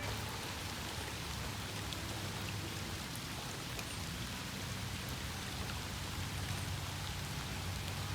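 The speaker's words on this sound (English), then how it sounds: "Man, this rain's really coming down now." Heavy rain pours steadily and loudly on a fishing spot, a dense continuous patter with no let-up and no voices.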